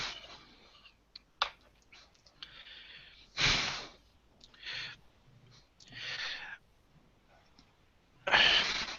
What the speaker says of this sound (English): You can hear some very strong breathing coming from the darkness